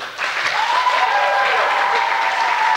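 Audience clapping together on a cue at a religious song festival in a concert hall, steady dense applause from many hands sustained throughout, no voices over it.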